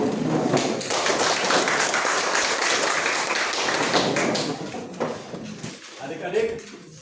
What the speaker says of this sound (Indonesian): Mari kita memberikan aplaus.